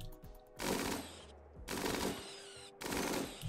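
Colonists fire guns in the video game Rimworld: three separate rattling bursts of gunfire, evenly spaced, fairly quiet, with no talking.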